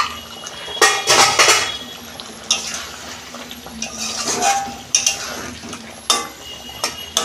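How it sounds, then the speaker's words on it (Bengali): Metal clanks and scrapes as the lid comes off a pan of home-style vegetarian cauliflower curry, followed by a few sharp utensil knocks and soft stirring. "ঢাকনা খুলছি"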